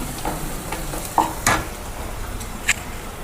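Sliced onions with chili powder stirred in a hot pan, with a soft continuous sizzle and a few sharp scrapes of the spoon against the metal.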